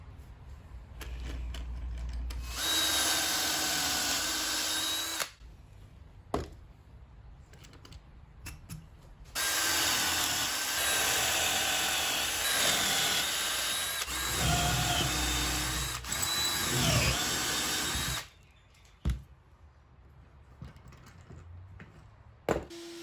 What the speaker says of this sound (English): I drilled one of the holes first in each leg and rail